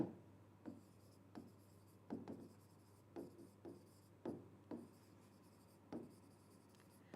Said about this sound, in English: Chalo, let me write that down as well.